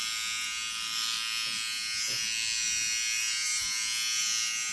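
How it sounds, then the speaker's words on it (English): A Finishing Touch Flawless Nu electric razor runs steadily while shaving arms, a close, continuous high-pitched buzz with faint brushing against skin. "I'm just going through and shaving my arms again."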